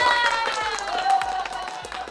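A small group claps hands in a barbershop, a quick run of sharp claps blending into brief applause with some voices underneath.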